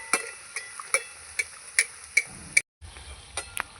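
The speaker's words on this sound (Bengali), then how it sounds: "এগুলো আমি ওইভাবে ভেজে নেবো" Chicken rolls fry in oil under a faint hiss while a metal utensil taps and clinks in a steady, evenly spaced rhythm close by, broken by a brief silent gap, with no talking.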